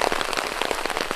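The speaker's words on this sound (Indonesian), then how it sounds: "sengaja saya bikin video pas di momen turun hujan" Heavy rain drums steadily on a small hut in the middle of rice fields, a dense close patter with no voices.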